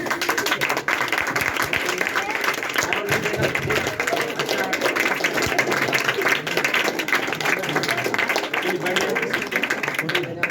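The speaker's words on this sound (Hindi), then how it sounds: "चलिए जोरदार तालियों के साथ इनको दिया जाता है" A standing audience at a class event claps loudly and continuously, with voices and crowd chatter mixed in over the steady applause.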